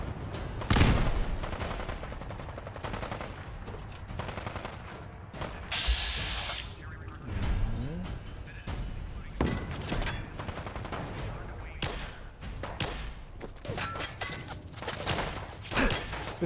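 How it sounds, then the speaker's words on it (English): Gunfire from a settler in the Fallout 4 game, a series of loud sharp shots in irregular bursts mixed with mechanical clicks and ratcheting weapon sounds, no speech. "This dude's shooting at me."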